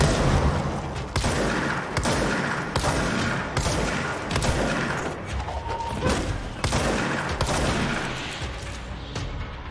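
Gunfire and a grenade blast in the video game Control, loud rapid bursts of shots punctuated by heavy booms, dense and continuous with brief gaps between volleys.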